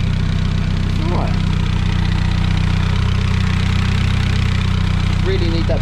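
A turbocharged Zetec engine in a van idles steadily at around 950 RPM, a constant low rumble running throughout with a couple of faint, brief voices over it.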